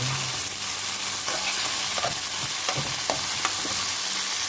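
Chicken liver and gizzards fry steadily in a pan, a dense continuous sizzle with occasional stirring scrapes and crackles, close and fairly loud throughout with no talking.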